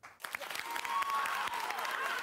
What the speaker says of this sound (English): Clap if you think that she should trick him.